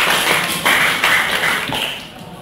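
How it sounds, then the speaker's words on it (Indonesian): Classroom students clapping for a group after their presentation, a short crowded burst of hand claps that tapers off over about two seconds. "Tepuk tangan untuk kelompok 5"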